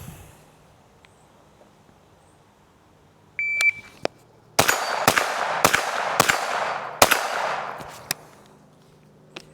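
A Ruger PC Carbine 9mm fires on a shooting range: a short electronic beep, then about five loud, sharp shots in quick succession, each followed by a brief echo.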